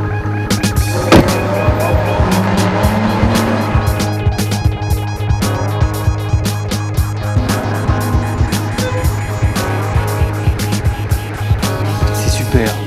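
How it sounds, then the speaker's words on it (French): An Aston Martin Rapide with a 6-litre V12 engine is on the move, a steady, loud engine drone under rapid, regular rattling clicks from the cabin or road that carry through the whole stretch. "12 cylindres, 6 litres, c'est énorme. Gros, gros moteur V12."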